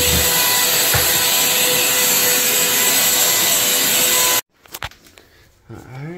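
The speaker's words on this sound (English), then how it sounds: "And then we just vacuum it all up." A vacuum cleaner roars steadily and loudly as it sucks up sand left behind after a dog bath, then cuts off abruptly, leaving quiet scraping and handling noises.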